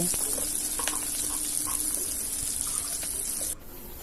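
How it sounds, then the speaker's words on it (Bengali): Chopped onions fry in hot spiced oil with a dense, steady sizzle close by, then drop abruptly quieter near the end; no one speaks. "পেঁয়াজ কুচিটা ভালো করে নাড়াচাড়া করে লাল করে ভেজে নেব"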